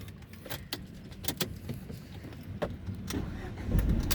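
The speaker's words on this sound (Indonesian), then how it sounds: "Tapi saya nyalakan mesin dulu nih." A 2011 Ford Fiesta 1.6 Sport automatic being started from inside the cabin: a few sharp clicks and jangles, then a low rumble building near the end as the engine catches, recorded up close.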